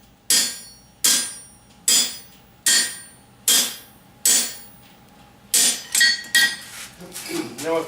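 A 2.5-pound hammer strikes hot metal in blacksmith hollow-form fullering, ringing out about nine sharp, evenly spaced blows close up, with the last few coming quicker and less regular.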